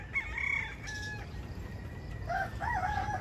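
A bulik gamecock rooster crows loudly and close by in a backyard, giving a drawn-out cock-a-doodle-doo followed by another tonal call, with no talking over it.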